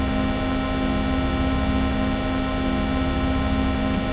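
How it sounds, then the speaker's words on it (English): A sustained synth pad mixed with white noise plays as an EQ test signal, a steady even tone with a hiss layered over it, unchanging until it cuts off abruptly at the end. "I will use this synth pad with some white noise"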